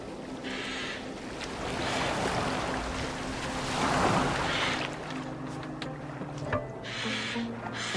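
A boat sails across open water in Assassin's Creed Valhalla, with a steady wash of waves and wind across the whole stretch and low tones humming beneath, broad and continuous with no clear voices.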